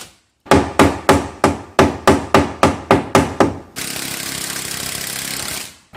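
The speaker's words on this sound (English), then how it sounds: "So I'll pre-drill those, put in some 3-inch screws" A drill drives 3-inch screws into a wooden door jamb: about ten sharp, evenly spaced bursts, then a steady, continuous whirring run of the tool close by.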